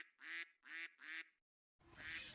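A flock of wild ducks gives three close, nasal quacks in quick succession, then a short silence and one harsher, noisier call.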